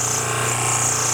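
A lapidary grinding wheel whirs steadily against a turquoise cabochon under firm pressure, giving a close, continuous hum with a high grinding hiss and no pauses.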